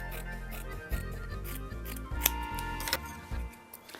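Scissors trim back a fabric seam allowance in a steady run of close, rasping cuts over a low constant hum.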